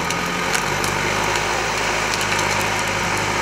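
Tractor engines run steadily at a town community clean-up day in Anapa, a continuous close engine drone that holds without a break.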